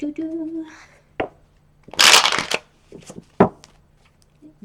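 Tarot cards are riffled and shuffled in a few quick, crisp bursts, close up, with brief soft sounds in between.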